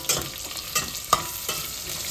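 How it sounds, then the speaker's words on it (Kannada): Garlic, ginger and onion fry in a pan for prawn masala, a steady sizzle broken by a few sharp stirring scrapes and clinks, close and alone without voices. "ಬೆಳ್ಳುಳ್ಳಿ, 1 ಇಂಚು ಶುಂಠಿ, ನೀರುಳ್ಳಿ ಹಾಕೊಂಡು ಚೆನ್ನಾಗಿ ಫ್ರೈ ಮಾಡ್ಕೊಂಡು ಇಟ್ಕೊಳ್ತೇನೆ."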